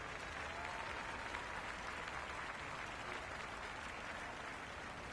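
Steady, dense crowd applause and cheering fill a stadium in the Cricket 26 video game during a Super 6 match between Gujranwala Rustams and Peshawar Zalmi, holding constant throughout with no voices on top.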